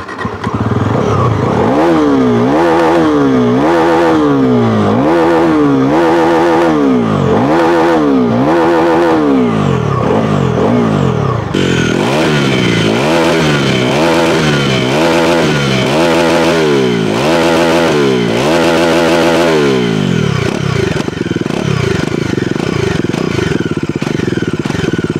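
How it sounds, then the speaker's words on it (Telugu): A Bajaj Pulsar NS400Z motorcycle revs repeatedly, its engine and exhaust rising and falling in loud, close blips over a steady idle for about twenty seconds, then settling back to idle. "ఇప్పుడైతే మనం NS400Z సౌండ్ విందాం"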